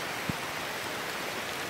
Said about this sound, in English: Getting a little too rainy.